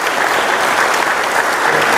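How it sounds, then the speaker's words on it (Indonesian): A congregation at a church sermon breaks into loud, sustained clapping that fills the whole stretch, with only faint voices under it. "Tepuk tangan dong, jangan tanggung-tanggung."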